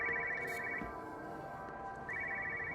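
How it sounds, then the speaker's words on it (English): A telephone rings in the video game Everybody's Gone to the Rapture, two bursts of an electronic trill separated by a pause, set over a quiet, humming ambient background. "I can hear another phone."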